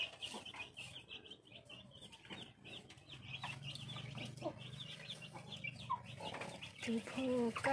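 A black chicken rooster on a Thai farm clucks in short, soft bursts close by, with other chickens chattering faintly in the background and a person speaking at times.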